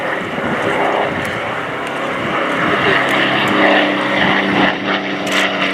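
A Spitfire propeller aircraft in a Battle of Britain Memorial Flight display at RIAT 2018, its engine droning loud and steady as it passes through a loop, with a voice talking over it.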